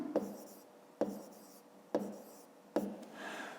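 Pen or pencil on paper writing out a school maths result by hand, with four sharp taps and short scratching strokes at a steady pace, close and quiet, a voice faintly behind.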